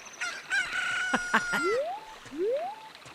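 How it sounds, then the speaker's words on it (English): A rooster crows in the video game Ocarina of Time, with a clucking burst followed by two rising crow calls, fairly close and clear over a faint background. "How do we get the rooster to crow at night?"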